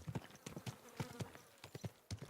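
Irregular clip-clop of horse hooves in a video game, quick uneven steps, moderately close, with a faint buzzing and no talking.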